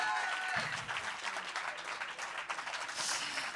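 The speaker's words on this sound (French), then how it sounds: "Et en troisième position, Rome Slam, un tonnerre d'applaudissements" Loud, thunderous audience applause and cheering at a national slam poetry final at the Pan Piper, greeting the third-place poet Rome Slam, a dense burst of clapping throughout.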